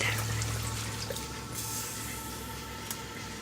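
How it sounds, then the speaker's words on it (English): Water poured into a cooking pan while turkey burgers are being made, a steady close splashing gush with some drips over a low kitchen hum, no speech. "I'm just going to put some water"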